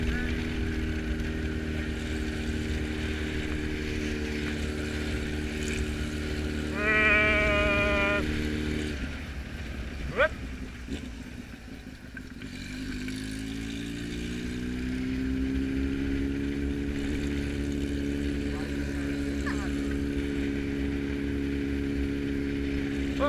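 A Honda Hornet motorcycle with a straight-pipe exhaust is ridden with a passenger, its engine droning steadily up close, briefly dropping away mid-ride and then building revs again, with occasional voices.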